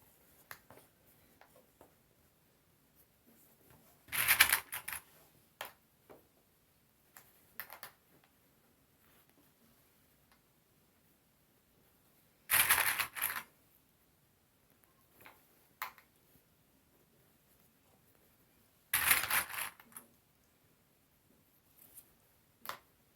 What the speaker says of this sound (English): I'm just clipping all the way along the outside edge of the hat brim